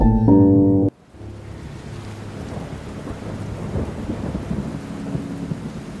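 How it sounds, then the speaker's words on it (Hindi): Steady rain falls with a low rumble of thunder, following a brief tonal burst that cuts off abruptly at the start. "बाहर किस पहर बारिश शुरू हो गई पता ही नहीं चला।"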